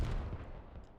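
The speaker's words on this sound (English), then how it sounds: "Hell cannon popping off" Hell cannon firing during a Squad tournament match, a heavy booming low report at the start that rolls off into a dense rumbling tail, loud and close-sounding.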